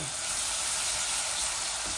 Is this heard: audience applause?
no